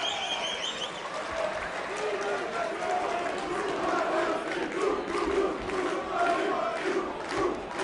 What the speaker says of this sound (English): Well, the crowd's fired up for this one.